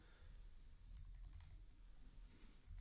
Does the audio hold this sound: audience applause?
no